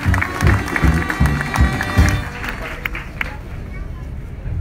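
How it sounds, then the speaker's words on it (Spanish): Loud audience applause at a health caravan event in Huixtla, Chiapas, many hands clapping close by over crowd chatter and some voices, then thinning out toward the end. "¡Fuertes los aplausos en representación de todas las mujeres huixlecas!"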